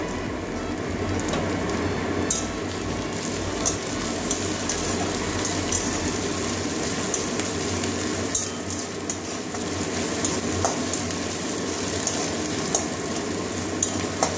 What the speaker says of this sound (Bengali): আদা রসুনের কাঁচা গন্ধটা যাওয়া পর্যন্ত কষাবো